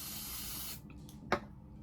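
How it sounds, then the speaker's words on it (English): Tresemme Extra Firm Control hairspray hisses in a steady close spray onto an eyebrow spoolie for about three quarters of a second, then cuts off, followed by a brief soft clack. "So I spray my spoolie"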